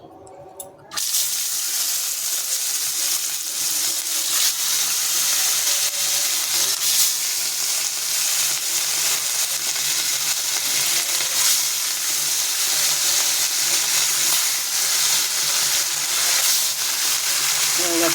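Fish fries in hot oil in a kadai, a loud, dense, continuous hiss and crackle that bursts in suddenly after a brief quiet start and holds steady up close.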